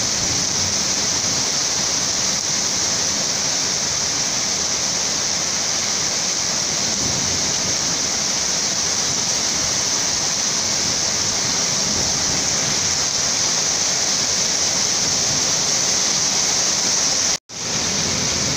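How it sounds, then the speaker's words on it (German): Heavy, steady downpour during a severe thunderstorm in Marburg, a continuous dense hiss of pouring rain that stays loud and unbroken, ending with a brief cut near the end; no voices. "Es regnet in Strömen."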